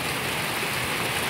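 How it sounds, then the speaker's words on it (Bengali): Heavy rain falls in a dense, even hiss that stays steady and loud across the short stretch, with no voices. "অনেক বৃষ্টি হচ্ছে যত সময় যাচ্ছে তত অজোর দ্বারা জোরে জোরে অনেক বৃষ্টি হচ্ছে"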